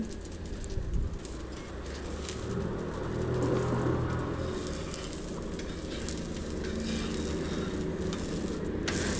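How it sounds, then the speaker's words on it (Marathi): Thalipeeth, a fasting-style flatbread, fries in oil on a pan with a steady, close sizzle and crackle that holds evenly throughout, with no voices. "त्याच्यानंतर वरून देखील तेल सोडून दुसऱ्या बाजूला थालीपीठाची पलटी करून घ्यायची"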